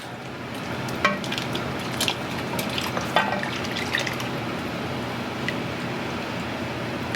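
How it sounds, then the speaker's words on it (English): Half and half is poured and stirred into a pot of corn and zucchini chowder, giving a close, continuous wet bubbling and sloshing with small drips and splashes. "So we're just going to mix it in. Add our half and half."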